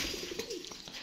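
A pigeon gives a short, soft cooing call close by in a quiet outdoor loft setting in Azad Kashmir, a brief throaty burble lasting about a second.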